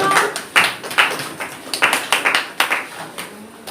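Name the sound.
class clapping for a student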